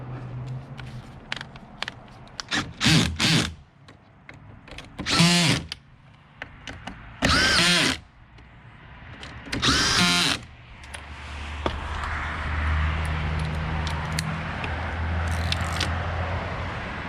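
A power drill tightens screws on a 2017-2022 Ford Super Duty BLIS side mirror during camera replacement, with several short loud whirring bursts separated by pauses, followed by a quieter, steadier mechanical hum.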